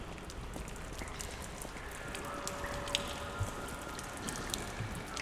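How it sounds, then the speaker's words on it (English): Rain falling at Central Station at night, a dense, even patter of drops on hard surfaces with faint distant hum and occasional louder drips, steady throughout. "That Central Station rainy night."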